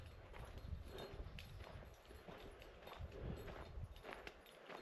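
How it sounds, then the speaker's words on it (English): Wild Mogollon mustangs walk, their hooves clip-clopping faintly in an uneven rhythm across the ground, distant and quiet against outdoor background noise. "There's the horses. Quite a few of them."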